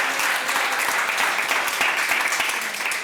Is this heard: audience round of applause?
yes